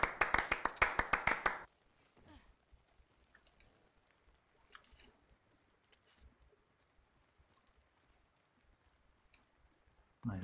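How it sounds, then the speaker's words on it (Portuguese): A quick burst of about a dozen sharp, close hand claps in rapid succession, followed by near silence with scattered faint clicks and a final soft thump. "Bater uma salva de palmas aqui pro Salve profissional."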